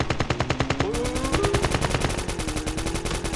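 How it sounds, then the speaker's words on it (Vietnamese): Rapid automatic gunfire in Call of Duty Mobile rattles in a fast, steady stream of shots, loud and continuous, with a tonal electronic hum running underneath. "trong khu này nghe tiếng súng luôn nè"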